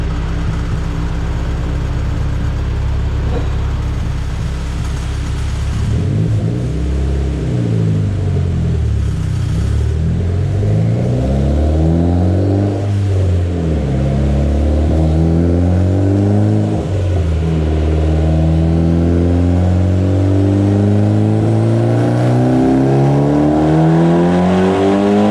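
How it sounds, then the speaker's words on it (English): A Mitsubishi Evo X with a Chris Robins TRU 3582 spec turbo, twin Walbro 255 fuel pumps, FIC 2150 injectors and a 3-inch intake revs and accelerates through several rising gear pulls. The loud, close engine drone climbs and drops with each shift, and no one speaks. "But I'm gonna start pushing this turbo and see what it can really do."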